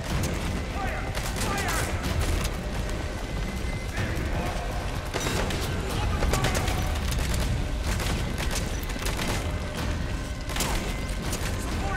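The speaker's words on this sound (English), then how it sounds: "He's shooting at me there." An enemy soldier fires at the player in Metal Gear Solid V: The Phantom Pain's prologue. Bursts of gunfire crack out repeatedly over a loud, dense game soundscape of mechanical clatter and rumble.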